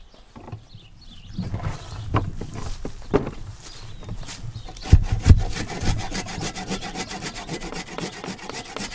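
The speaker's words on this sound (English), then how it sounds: "Then we're going to cut the excess off." A hand saw cuts the excess wood off a reused splitting maul handle. Slow, uneven strokes and a couple of heavier knocks give way to a fast, steady back-and-forth rasp, close up with no talk.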